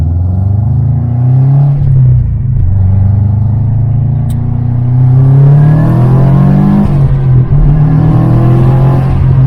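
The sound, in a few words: Subaru STI car accelerating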